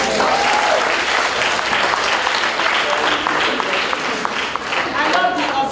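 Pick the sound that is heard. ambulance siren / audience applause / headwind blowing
audience applause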